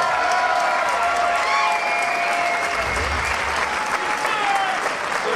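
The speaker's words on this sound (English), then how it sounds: "let's get a nice round of applause out here for both of these fighters" Arena crowd applauding two fighters after a three-round bout at a fight hall, steady dense clapping and cheering throughout, loud and sustained with no break.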